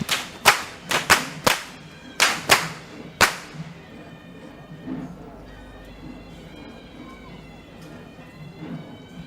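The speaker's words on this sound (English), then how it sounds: "only those who have mastered the art of whip cracking will be taken to participate in the Kandy Esala Perahera" Whips cracked by practised whip wielders at the Kandy Esala Perahera procession: about seven sharp, loud cracks in quick succession, followed by a steady outdoor crowd murmur.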